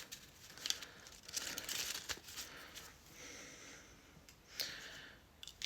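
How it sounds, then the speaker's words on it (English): Stiff TBR cards shuffled in a pile by hand, giving soft crinkling, papery flicks and rustles in short bursts at close range, with no talk. "Okay, let's shuffle the pile again, like that, and then"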